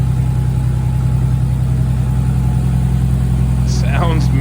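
Tyler's Z car engine idles smoothly and evenly, a loud, close, steady low-pitched drone with no misfires; a voice briefly chimes in near the end.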